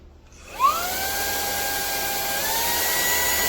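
A Wkzay cordless handheld vacuum with 16,000Pa suction and USB-C charging whirs up to a steady high-pitched motor drone, with a brief rattle as heavy screws are sucked in near the start. It runs alone at close range.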